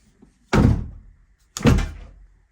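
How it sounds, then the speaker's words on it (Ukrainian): Two solid car door slams about a second apart on a Renault Laguna, each a heavy low thump with a short rattle, close by and with no talking. "Дверка закривається"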